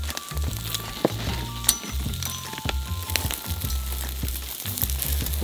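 A tomahawk steak sizzles on a grill in the jungle, a steady crackling hiss broken by occasional sharp pops and small clinks, close and fairly loud.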